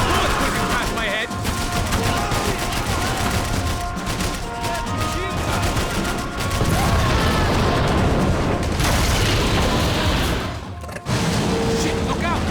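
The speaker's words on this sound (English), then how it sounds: "Bullets whizzing past my head." Bullets whizzing past during a hardcore shootout with police in a video game, amid a dense, loud barrage of gunfire and snapping impacts that runs almost unbroken, with someone speaking over it.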